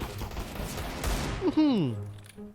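Burst of gunfire in the Counter-Strike 2 video game, a loud rattling fusillade over the first second and a half, followed by a sliding tone as play continues, with voices underneath.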